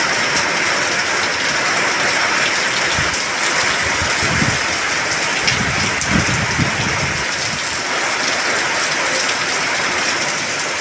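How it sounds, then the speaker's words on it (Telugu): Heavy rain pours down in Kalyandurgam, Anantapur, a loud, dense and unbroken roar of water with no voices. "కళ్యాణ్ దుర్గం ఏరియాలో భారీగా పడుతోంది వర్షం"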